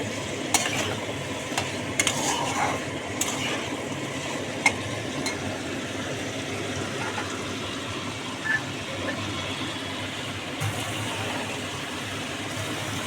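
Spiced masala for a tangra fish curry sizzles steadily in oil while a spoon stirs and scrapes through it, a continuous close frying hiss with occasional clinks of metal.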